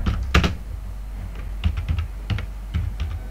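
Keys tapped on a computer keyboard while a file name is entered, a few short bursts of clicks separated by brief pauses, close and fairly loud with no talking.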